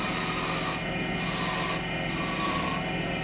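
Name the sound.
parting tool cutting wood on a lathe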